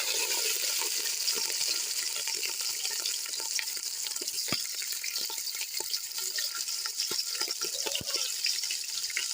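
Chicken fries in ghee in a cooking pot for Chinese-style rice, a continuous soft sizzle with scattered pops and clicks, moderately quiet and without speech.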